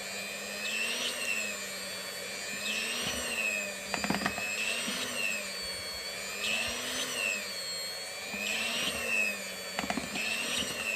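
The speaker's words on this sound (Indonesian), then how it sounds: "Kita mixer ini sampai adonannya kalis." An electric hand mixer kneads eggless donut dough in a bowl, a steady close whir that rises and falls in pitch in a slow repeating cycle as the beaters work the dough, with occasional knocks against the bowl and no talking.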